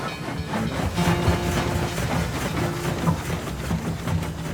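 A steel-plated steam train in the Appalachian coal country rolls in on a cold February day, a steady heavy rumble with rhythmic wheel clatter and hissing, fairly close and continuous.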